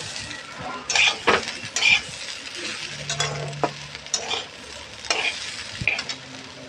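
Dal frying in a pan is stirred with a utensil, with repeated scraping strokes and light metallic clinks over a soft, continuous sizzle, close and clear.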